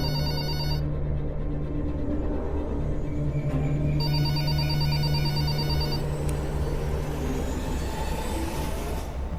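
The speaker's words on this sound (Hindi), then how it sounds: "आजकल लैंडलाइन पे कौन फोन करता है?" An old-style landline telephone rings with a loud electric bell in repeated bursts, pausing between rings, over a steady low background hum.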